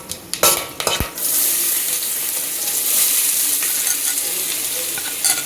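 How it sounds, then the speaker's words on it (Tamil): Chopped onions hit hot oil with a few sharp knocks and clatters, then a loud, steady hiss of frying runs on continuously, close up, without talk. "போட்டு கொஞ்சம் பொன்னிறமாக வர விட்டு அரிஞ்சு வச்ச வெங்காயத்தை போட்டுடணும்."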